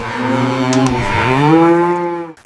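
A cow gives one long, loud, drawn-out moo that rises and falls in pitch, close and alone.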